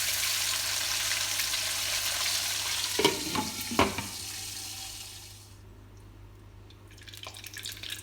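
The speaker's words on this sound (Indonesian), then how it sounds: "Nah, ini digoreng dengan minyak bekas menggoreng cabai ya" Boiled salted squid frying in oil left over from frying chilies, a loud close sizzle with a few sharp pops and spatters that softens as the pan is covered, then rises again faintly near the end.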